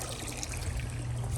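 Water overflowing from an outdoor galvanized steel fish tank fed from a small pond, heard as a steady, close splashing trickle throughout.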